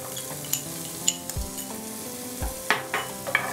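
Garlic and onions sautéing in a pan make a soft, low sizzle under scattered clinks and scrapes of a utensil against the cookware, with a few dull knocks.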